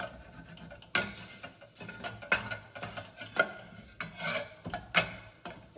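Flour being stirred into a queso cheese sauce in a pot, giving soft intermittent scraping and rubbing strokes with occasional light clinks of a utensil, close and fairly quiet, with no talking.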